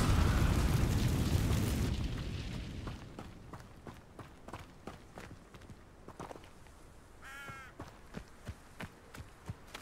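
Incendio fire spell effect in Hogwarts Legacy, a loud whooshing burst of flame at the start that fades over two seconds, followed by quiet footsteps and small pops.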